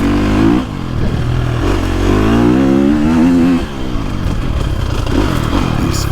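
A 2023 KTM 350SXF dirt bike on a woods trail loop revs loud and close, its engine snapping on and off the throttle in rising and falling bursts with clattering mechanical noise.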